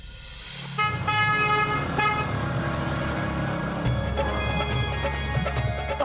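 A car rolls up on a street and sounds its horn in a sustained, loud toot that persists over the idling engine, with traffic noise faintly behind it.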